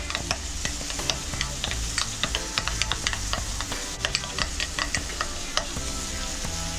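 Burger ingredients are mixed with spicy brown mustard in a bowl, giving a steady close wet stirring texture with small irregular clicks and squelches throughout and no voices.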